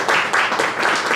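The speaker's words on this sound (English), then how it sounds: "Please give a big round of applause to Mrs. Jimenez." A crowd applauds Mrs. Jimenez at a community breakfast in Dallas, a short burst of fairly close clapping that stays steady and fills the moment without any voices.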